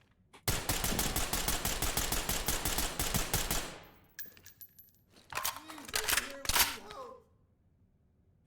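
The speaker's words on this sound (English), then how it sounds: "By double tapping R, he immediately goes in that speed reload." A long rapid burst of gunfire in the tactical shooter Ready or Not, followed by quick metallic clicks and clacks of a fast magazine swap, all close and crisp.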